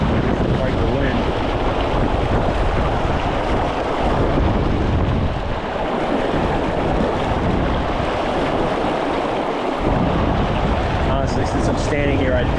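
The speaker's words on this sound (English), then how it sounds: "A lot of wind too." Strong wind buffets the microphone beside a raging river while trout fishing, a steady loud roar of gusts and rushing water running throughout without a break.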